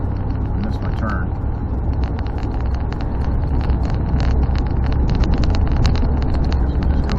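A Dodge Dakota pickup drives along a road after a rack and pinion install, a loud steady engine and road rumble heard from inside the cab with rattly clicks over it.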